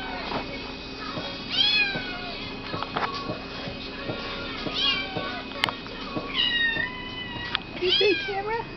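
A cat meows repeatedly for food, several clear rising calls spread out over a background of clinks and light handling noise, close to the listener.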